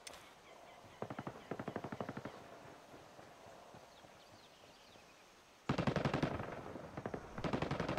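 Automatic gunfire in the video game Ghost Recon Wildlands, with rapid bursts near one second and loud, sustained bursts after the fifth second, separated by a quiet stretch.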